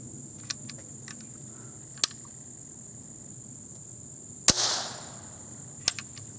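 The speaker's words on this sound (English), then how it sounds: "I'm going to pop a percussion cap in there and see if the gun will actually fire." A percussion cap fires on a vintage CVA Hawken rifle: a single sharp pop with a short tail, set among a few smaller clicks, against a constant outdoor insect buzz.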